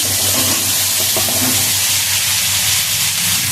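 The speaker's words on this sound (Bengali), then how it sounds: "এবার আমি আলুগুলোকে ভেজে নেব" Potatoes fry in hot oil in a pan during home cooking of a thin catfish curry, giving a steady, loud, close sizzling hiss that runs unbroken for the whole stretch, with no talking.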